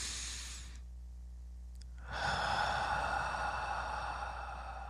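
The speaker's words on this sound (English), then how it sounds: "let's take a deep breath." One deep breath, slowly drawn in and then let out as a long, close, breathy sigh that grows louder halfway through, heard alone with no talking.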